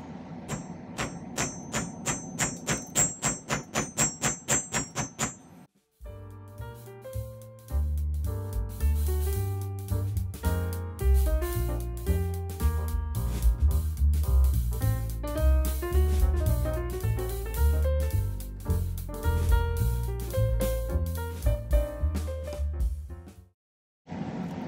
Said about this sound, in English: I'm going to use my chasing hammer